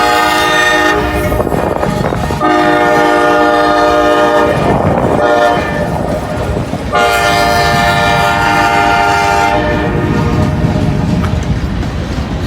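A southbound CSX freight train rumbles past close and loud, its horn blaring in long sustained blasts over the steady roar and clatter of wagons on the rails.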